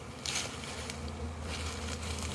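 Dense, steady buzzing from a large swarm of honeybees during the cutout of an overwintered colony from a tree in Michigan, close and continuous with faint tapping in the background.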